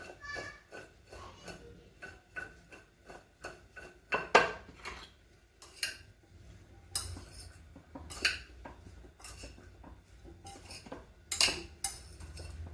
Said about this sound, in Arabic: دابا غادي نخلط كلشي غادي نخلطو غير هكا